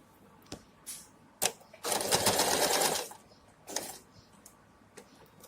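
A sewing machine stitches pant fabric in one loud, steady run of about a second, framed by scattered sharp clicks and taps from handling the machine, close by with no voices.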